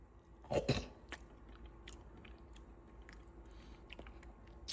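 Protein ice cream is eaten close to the mic: a brief loud bite and chew near the start, then faint soft mouth sounds and small clicks in a quiet room.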